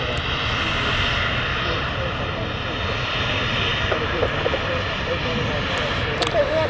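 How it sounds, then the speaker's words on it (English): A retrofitted Ryanair jet airliner roars steadily at an airport, loud and sustained throughout, with faint background sounds. "A retrofitted Ryanair here."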